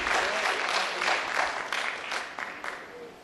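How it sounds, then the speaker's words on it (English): A church congregation at a Navajo Nation service claps together, dense hand clapping filling the room and slowly thinning toward the end. "Give him a hand clap tonight."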